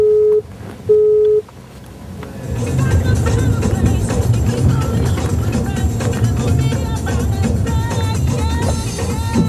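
A telephone busy signal beeps in two short, clear tones as a man phones his mother, then gives way to loud, steady traffic and engine noise from a busy street or vehicle.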